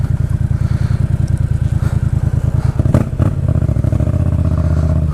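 A Yamaha FZ-07 motorcycle with a new air filter and a freshly flashed ECU rides along close to the microphone. Its engine pulses with a rapid, steady, throbbing beat, and a few thumps and rattles come through partway.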